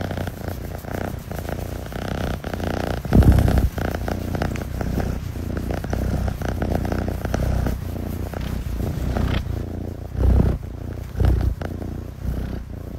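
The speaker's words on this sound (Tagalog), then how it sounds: "At yun ay ang pag-purr nito ni Ponpon Alarcon D. Ampon." A pet cat named Ponpon purring steadily and close, a continuous low rumbling throb with a few louder swells, no talking.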